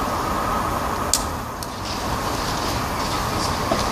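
A four-coach class 158 train rolls into a station platform at Edinburgh Gateway with a steady, broad rumble and occasional metallic clicks, heard close without talk.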